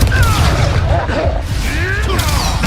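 Fiery Confringo blast spells explode during a Hogwarts Legacy duel, loud booming bursts layered over dense, continuous combat noise with voices speaking throughout.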